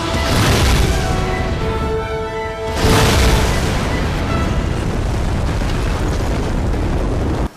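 A MOAB bomb detonates in Mercenaries 2: World in Flames, a loud roaring blast that swells again at about three seconds into a second boom, then rolls on as a dense, sustained rumble with no voices.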